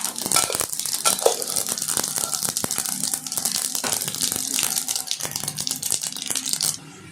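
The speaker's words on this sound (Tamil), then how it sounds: "கடுகும் உளுத்தம்பருப்பும் போட்டுக்கலாம்" Mustard seeds and urad dal crackle and sizzle in hot oil for a banana-stem stir-fry, a dense steady spatter of tiny pops running close and loud before cutting off near the end.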